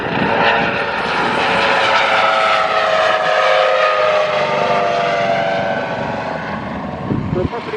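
Tutor propeller aircraft flying a display at an RAF Valley family day, a loud steady droning engine with a shifting pitch as it passes, under a public-address voice.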